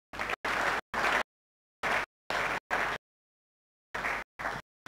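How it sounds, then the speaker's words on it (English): An audience applauding at a renewable energy event, heard as loud bursts of clapping cut off abruptly by short silences, close and without talk. "Applause for Marco."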